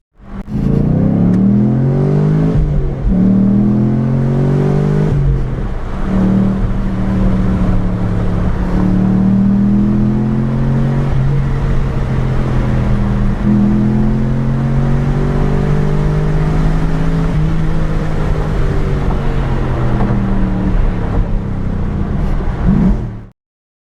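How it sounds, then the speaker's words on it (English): A 2014-2015 Chevrolet Camaro Z28 with a 505-horsepower V8 revs loudly and continuously, its engine pitch rising and falling in sweeping waves close up, with no talking over it. "2014 to 2015 Chevrolet Camaro Z28, 505 horsepower."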